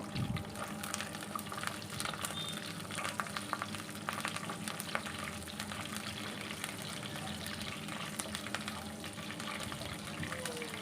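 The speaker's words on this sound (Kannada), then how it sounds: "ಶೇಂಗಾ ಬೀಜನ ಚೆನ್ನಾಗಿ ಫ್ರೈ ಮಾಡ್ಕೋಬೇಕು" Peanuts fry in a hot pan with a steady, close crackling sizzle and scattered scraping stir sounds throughout.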